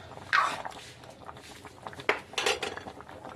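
Spoon stirring salted puzhukku in a cooking pot, a few sharp metallic clinks and scrapes, close and fairly quiet, spaced irregularly over a few seconds.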